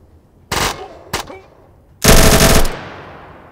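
Gunfire in the video game Atom RPG comes as three loud bursts: a half-second volley, a quick short shot, then a longer rattling burst of automatic fire, each cutting off sharply into quiet.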